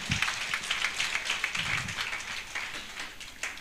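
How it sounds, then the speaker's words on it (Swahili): A crowd claps together in a steady, dense burst of applause that carries on for several seconds without letting up. "Pigieni Bwana wetu makofi mazuri"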